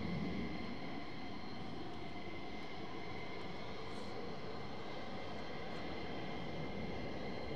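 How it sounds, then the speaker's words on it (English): A twin-engine military jet taking off from RAF Mildenhall, heard from a distance as a steady, faint roar that holds at an even level for several seconds with no voices. "There's something going up from Mildenhall."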